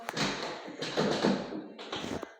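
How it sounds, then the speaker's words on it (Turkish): A locked door gets tried and rattled in a children's cops-and-robbers game at home, with bursts of close thumps, taps and jiggling in three short clusters separated by brief pauses. "Hırsız kapıyı açmaya çalışıyor ama açamaz çünkü kapı kilitli."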